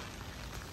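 Rain falls steadily over an abandoned manganese-mining town of old houses in China, a faint, even hiss with no voices.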